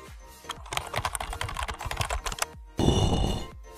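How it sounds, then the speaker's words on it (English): Rapid keystrokes on a computer keyboard entering a short command into a search bar, a quick burst of close clicks followed by a louder, denser clatter near the end. "Navigate down to the search bar and type msconfig."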